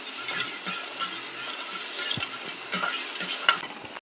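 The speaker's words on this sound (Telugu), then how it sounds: "ఒక పెద్ద స్పూను గరిట ఆయిల్ వేసుకుందామండి మళ్ళీ ఒకసారి కలుపుకుందాం" Bread batter with wheat flour and added oil is stirred in a bowl, giving soft wet squelches and light scraping taps in an irregular rhythm, close and quiet.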